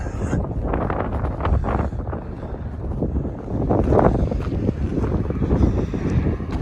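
Wind buffets a microphone during a walk on the moors between Marsden and Greenfield. The gusts are loud, rough and continuous, and they swell and ease in waves.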